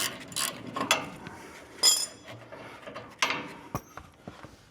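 Quick bursts of ratcheting clicks from a wrench breaking loose the bumper bolts on a 1967 GMC truck, close and fairly quiet, with short metallic rattles in between.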